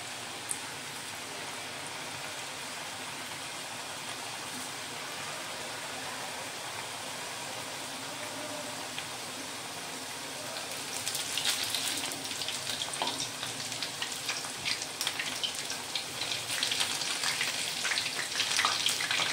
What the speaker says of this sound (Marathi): तर मध्यम गॅसवरच चकली आपण तळून घेणार